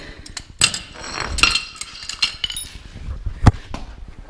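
Metal tools clink and clatter in scattered, sharp hits while being cleared away during a Western Ultramount plow pump reservoir and filter replacement, close by with no talk.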